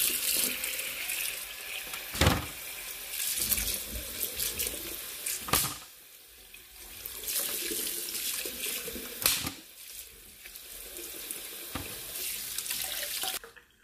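Tomatoes rinsed under a running kitchen tap, with a steady splashing water stream broken by a few sharper clatters and splashes as the produce is handled.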